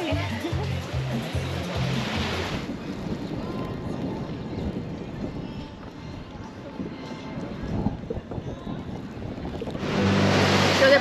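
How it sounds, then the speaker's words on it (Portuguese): Sea waves roll onto a beach in Curaçao as a steady, broad wash of surf, with wind buffeting the microphone throughout. "Mas o mar é lindo, lindo, lindo"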